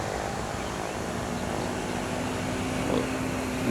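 A Hino RM 280 tour bus engine drones steadily in a continuous loud roar as the bus passes on the road, swelling slightly near the end.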